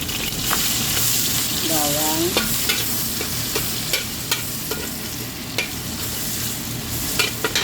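Garlic stir-fries with crisp pork cracklings in a hot pan, a constant sizzle punctuated by sharp, rhythmic spatula scrapes and taps, with a brief faint voice in the background.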